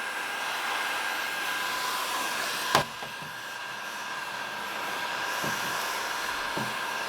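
Heat gun blowing hot air to melt a plastic water bottle onto a broken pool or vacuum hose, a steady close fan-like hiss with one sharp tap partway through and faint knocks later.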